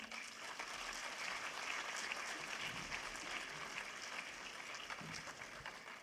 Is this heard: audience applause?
yes